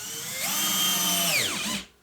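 A power drill drives a screw into wood, its motor whining steadily and rising in pitch, then dipping as the screw seats before cutting off abruptly, close and loud.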